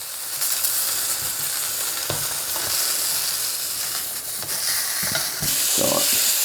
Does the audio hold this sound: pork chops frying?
yes